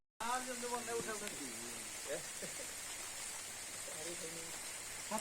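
Rain falls steadily in a quiet rural area of Netrokona, Bangladesh, making a soft even hiss throughout, while someone talks faintly over it.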